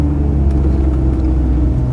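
A 1998 BMW E36 M3 sedan with a Dinan exhaust gives a steady, loud, low rumble at an even idle or cruise, with no voices over it.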